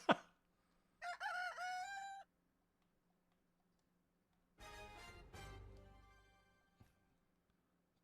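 Chicken sounds from the video game Breath of Fire 4: a short cluck, then a clear crow, then a longer, noisier squawking burst after a pause, each loud and alone over a faint hum.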